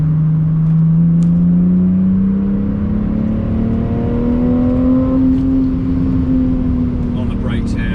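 BMW M2 passing on the Nordschleife track, its engine note rising steadily in pitch as it pulls by close and loud, over constant in-car engine noise.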